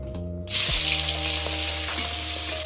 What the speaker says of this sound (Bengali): এবার দিয়ে দেবো একে একে কাঁটাগুলোকে।